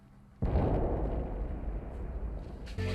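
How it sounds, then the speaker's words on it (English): An explosion sound effect in a TV sci-fi episode erupts suddenly after a quiet moment, a loud sustained rumbling blast that slowly decays, with a second surge of noise near the end. "Some sort of explosion"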